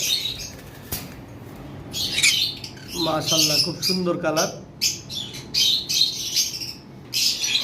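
Pet birds kept for sale squawk and chirp in sharp bursts, with wing flapping among them, close by. Someone talks over the calls in the middle.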